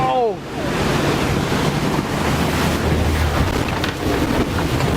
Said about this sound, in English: a piece of the glacier actually broke off and fell into the water